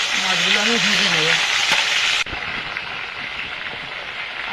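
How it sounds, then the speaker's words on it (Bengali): Turmeric-and-salt-rubbed fish pieces fry in hot oil in a karahi, a loud, steady sizzle and crackle that carries on throughout while a voice talks briefly at the start. "এটা তেলটা গরম হয়ে গেছে, মাছগুলো ভেজে নেব"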